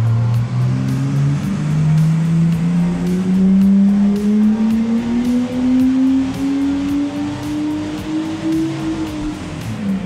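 A Nissan GTR R35 engine strains on a dyno run, its drone climbing smoothly in pitch through a long steady pull before easing off at the end, loud and close throughout.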